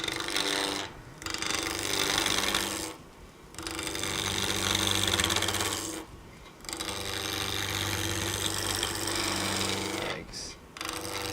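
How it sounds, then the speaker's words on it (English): A lathe tool taking a planing cut on a spinning wooden sphere gives a steady, loud rasping hum, broken by three short pauses as the tool lifts off the wood. "So this is a planing cut."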